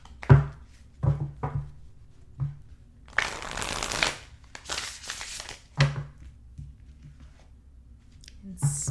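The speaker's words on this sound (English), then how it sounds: "Let's shuffle these up a little bit." A deck of tarot cards riffled and shuffled at close range, with a long dense burst of snapping card noise in the middle framed by lighter handling clicks and taps.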